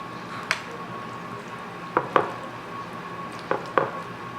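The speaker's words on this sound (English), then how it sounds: "I mixed it all in because I wanted to make sure that the rice is underneath the broth." Ground beef, onions and rice stirred together with broth in a baking dish: faint wet squishing under a low background hiss, with a few sharp clinks of a utensil against the dish at irregular intervals.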